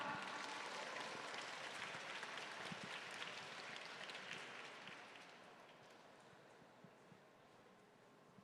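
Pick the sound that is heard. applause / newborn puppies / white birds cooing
applause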